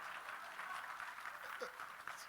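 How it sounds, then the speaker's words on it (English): An audience at the Jaipur Literature Festival applauding, a dense wash of clapping that sounds distant and fairly faint throughout, with no one speaking over it. "Loud clap."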